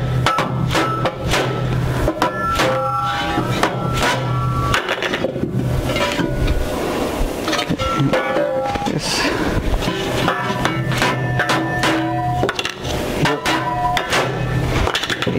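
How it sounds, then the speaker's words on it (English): Hammer blows on a sheet metal enclosure cover, struck through a spreader block rather than directly, land as repeated sharp knocks through a dense, busy background. "You never hammer on the sheet metal directly, otherwise it'll make dents. You always put some spreader like this."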